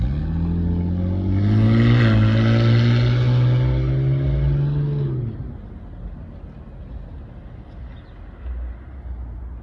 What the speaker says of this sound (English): But with this loud ass car barking